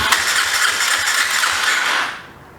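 A 2004 Yamaha TTR 250 motorcycle engine with a troublesome carburetor runs loud and rattly for about two seconds, then dies away instead of settling into an idle.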